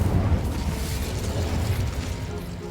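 The Incendio fire spell in Hogwarts Legacy, a loud whooshing burst of flame with crackling, popping texture sustained for a few seconds.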